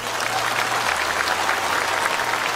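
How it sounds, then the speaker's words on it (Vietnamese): A large audience at a Buddhist dharma talk breaks into loud, dense applause, a continuous roar of clapping hands that fills the hall evenly, with a low steady hum underneath. "cho tràng pháo tay thật lớn thật dài"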